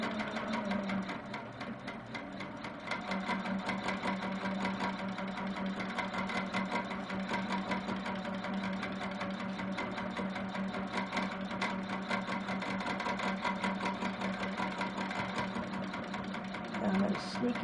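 A sewing machine quilting a paisley pattern keeps up a steady mechanical whirr and rapid needle patter, close by and continuous, while a person talks over it.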